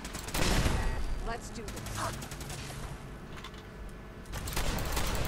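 Rapid bursts of gunfire from the video game Fallout 4, loud and sustained with repeated sharp reports, while a voice speaks briefly over the shooting.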